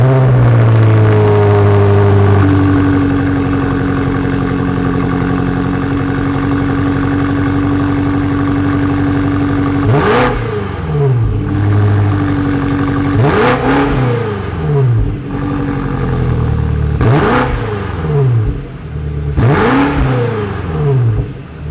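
A 2023 BMW X5M Competition rumbles at a steady idle, then four sharp revs spaced a few seconds apart, each rising quickly and falling back, loud and close with no talking.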